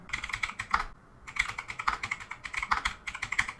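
Rapid, close clacking of computer keyboard keys in quick bursts with a brief pause, someone typing a short search phrase, clear and fairly quiet with no talking.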